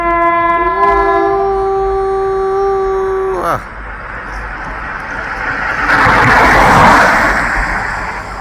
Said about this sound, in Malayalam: ദൂരത്ത് നിന്നും അതാ ട്രെയിൻ വീഴുന്നു